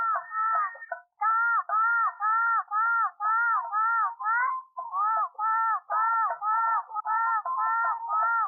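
A crow caws repeatedly in a steady run of harsh, closely spaced calls, loud and near, with only brief gaps between bursts and no talking.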